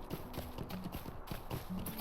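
Horse hooves clip-clop at a steady walking rhythm while a rider travels through the Lone-Lands in the video game Lord of the Rings Online, fairly quiet and with no talk.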